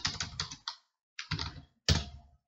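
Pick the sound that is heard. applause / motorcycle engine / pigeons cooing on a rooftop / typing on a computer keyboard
typing on a computer keyboard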